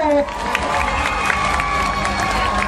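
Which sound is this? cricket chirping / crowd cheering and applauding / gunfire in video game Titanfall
crowd cheering and applauding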